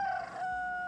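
Rooster crowing in the PUBG Mobile battle-royale game, a single sustained synthetic-sounding cry that holds steady and fairly loud for about a second with no talking over it.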